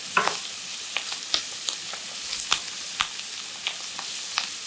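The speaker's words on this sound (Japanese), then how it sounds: "皮に焼き色を、この焼き色がうまみに変わりますので、 はい、強火です。" Chicken thigh pieces seared skin-side down over high heat, a steady bright sizzle punctuated by regular sharp pops and spatters, close and fairly loud with no talking.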